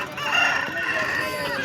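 A rooster crows loudly and close at a busy Sunday hen market in Pileru, one sustained strained call over a dense bed of crowd noise and other fowl.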